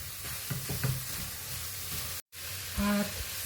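Minced meat dropped into a hot frying pan and stirred, giving a soft, quiet sizzle with a few light scrapes, broken by a brief moment of silence midway.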